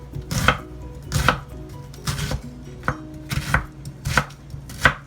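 A knife chopping cabbage on a board, about seven crisp, evenly paced cuts with wet crunchy texture, close and loud with no talking.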